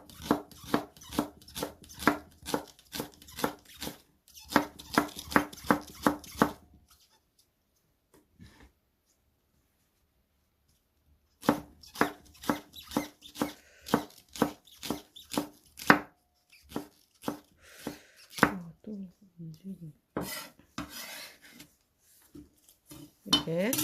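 A knife finely chopping green onion on a board, a run of quick, sharp, evenly spaced taps in bursts separated by pauses, close and clear with no talk.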